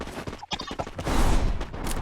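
Rapid bursts of gunfire from the Free Fire mobile shooter game in a 4v4 match, a dense fusillade of loud cracks building into sustained fire, with brief voice sounds mixed in.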